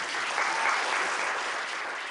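A comedy-show audience bursts into applause, a dense, uniform roar of clapping hands that holds steady and fills the room without any talk on top.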